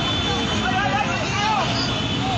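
A helicopter passes overhead during a police shootout, a steady engine drone heard from a distance beneath the babble of agitated bystanders.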